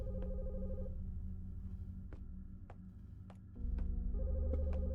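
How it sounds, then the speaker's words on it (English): A telephone rings inside a dark city setting in the horror game The Skin Stapler demo: faint repeated electronic ring tones with clicks and ticks over a low ambient hum that swells near the end. "the phone is ringing"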